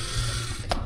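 A ratcheting crank machine pulls a string to cut through glue during a restoration, giving a brief close mechanical grinding whir that ends with a single sharp click.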